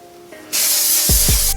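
Redken Dry Volume Burst sprays onto hair in a loud, close, continuous aerosol hiss that starts abruptly and holds steady, with a couple of low soft thumps near the end.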